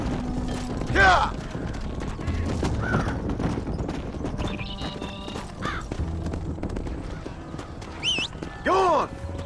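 Horses in a Red Dead Redemption ranch scene clip-clop over the ground, with creaks, a whinny and short shouted bursts mixed in over a busy outdoor backdrop.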